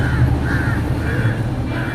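Crows caw repeatedly in short, regular calls over a steady low hum, fairly close and moderately loud, with no talking.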